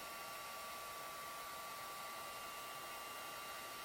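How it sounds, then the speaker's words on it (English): A heat gun blows steadily on heat shrink tape, giving a constant airy whine and hiss with no pauses, close and even in level. "then I'm going to go with a heat gun and"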